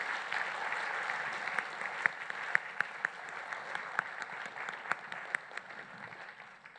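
Applause in a conference hall welcomes the Hoshino Resorts CEO onto the stage at the Porter Prize awards. The clapping is moderately distant and steady, with a few sharp individual claps standing out, and it thins toward the end.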